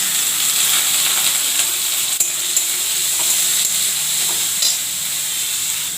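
Morola fish heads sizzle steadily in a hot pan with fried chilli, garlic and onion, a loud continuous crackle with faint clinks of stirring, no voices.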